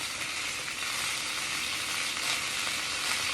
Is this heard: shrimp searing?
yes